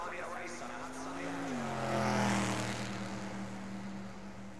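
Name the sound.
Formula race cars before the race start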